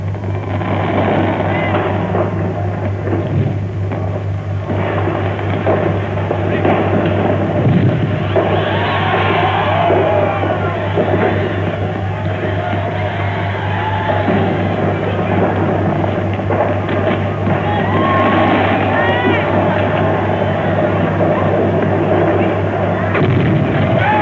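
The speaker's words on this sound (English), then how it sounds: "Fireworks display commences." Fireworks display at the Uganda independence monument in Kampala, with continuous loud crackling bursts and booms over a steady hum and crowd noise throughout.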